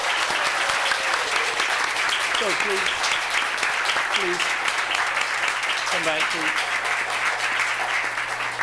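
Audience applause at a city council meeting, a steady wash of clapping from a crowd filling the room, with someone speaking over it near the end.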